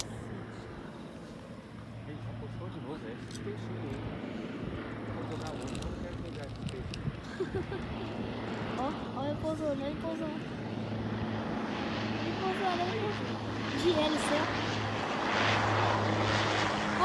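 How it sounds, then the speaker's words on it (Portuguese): A propeller airplane flies overhead and comes in to land near a fishing spot, its droning hum steady and moderately distant over a windy outdoor background while people talk nearby. "Eu vou tentar mostrar o avião aqui pra você."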